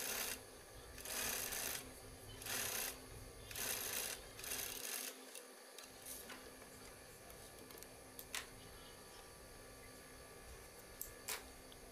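A sewing machine runs in several short bursts while stitching a bridesmaid gown, faint and close, then gives way to quiet handling clicks.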